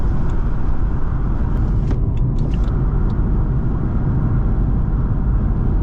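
A Mazda RX8 drones steadily along the road, with constant loud low road and engine rumble heard from inside the car and a few faint ticks over it.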